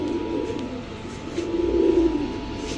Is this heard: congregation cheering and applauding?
no